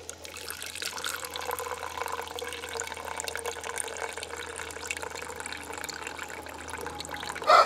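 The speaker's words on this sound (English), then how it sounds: "And out comes the liquid from the" Liquid compost tea pours from the opened tap of a container into a 32-ounce measuring cup, a steady, moderately quiet trickle and splash running throughout with no talking.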